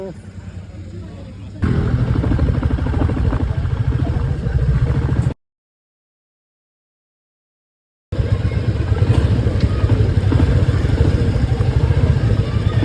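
Taxis and other vehicles run along a street in Darjeeling, a steady rumbling engine drone with clattering idling, loud and close, interrupted by a few seconds of silence; voices talk underneath.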